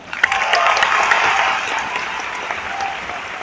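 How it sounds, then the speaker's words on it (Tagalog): Audience applauding loudly at an evening event, a dense, sustained burst of clapping that swells quickly and holds steady with a few sharper claps on top, no speech over it. "sige, tuloy niyo yung palakpak nyo"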